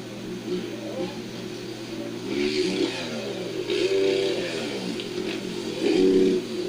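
A motocross motorcycle engine revs at a Monster Energy Moto X best-trick competition, rising and falling in pitch at a distance beneath crowd noise and announcer commentary.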